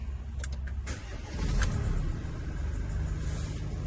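An Opel Movano or Renault Master van engine cranks and starts after a freezing night outdoors, settling into a steady low idle rumble with a brief rise in loudness as it catches.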